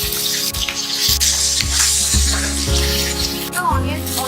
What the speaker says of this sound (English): Once our chili starts spluttering, we'll add in the onion.